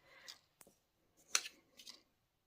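Scissors snip through paper pieces for an autumn envelope treat box craft, a few short crisp cuts spaced apart, close and fairly quiet with no talking.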